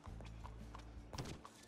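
Horse hooves clip-clop in Red Dead Redemption at a steady walking rhythm, close and fairly loud, with a low rumble of game ambience underneath.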